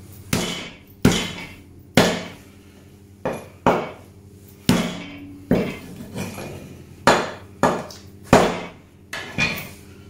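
A butcher's chopper strikes a lamb carcass to take off the tail, about a dozen sharp, close thwacks at an uneven pace, each followed by a brief ringing decay, with no speech between the blows.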